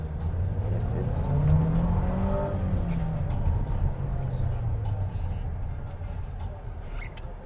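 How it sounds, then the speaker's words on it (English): Jaecoo J7 SUV accelerating hard on a test drive, steady engine roar with rising tonal whine and road rumble, loud and continuous from inside the cabin, with voices talking over it. "we're moving from 0 to 60 in no time."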